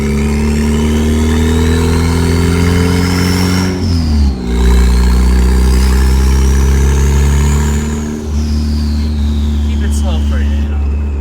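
Engine of a manual race car revving loudly and steadily, rising in pitch twice as it accelerates with brief dips between gear changes, close and continuous throughout.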